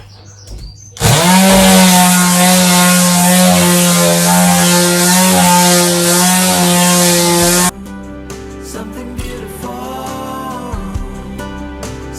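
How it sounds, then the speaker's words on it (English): A power sander runs over a wooden kitchen worktop with very fine sandpaper, a loud steady whine starting after a second and holding for about seven seconds before cutting out, leaving quieter handling noises. "put a very fine sandpaper on and just go over the whole thing with the fine sandpaper just to smooth out the wood all the way along"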